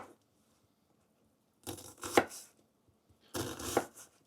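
A knife dicing vegetables finely on a board for sloppy joes, two short bursts of quick chopping taps separated by silence, close and clear, with no talking.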